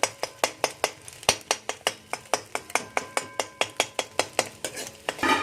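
Egg being broken up and stirred in a pan for egg schezwan fried rice, heard as a quick, even run of about twenty close metallic spatula clacks against the pan over a faint sizzle.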